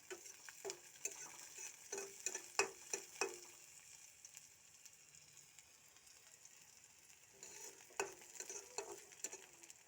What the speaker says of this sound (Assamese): পিঁয়াজখিনি এনেকৈ অকণমান ৰঙচুৱা হোৱালৈকে মই ভাজি থাকিম